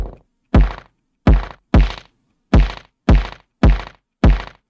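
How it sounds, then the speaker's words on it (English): A synthesized kick drum made in Bitwig and shaped with multi-band compression hits seven times at an uneven pace. Each hit is a loud, punchy low thump with a bright attack and a short decay, played alone with no talk. "I just prefer the sound that I get out of the multi-band compression when it comes into kicks"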